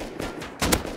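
Gunfire in the survival game Rust cracks out as a few quick, loud shots bunched together in about a second, nearby and without talk.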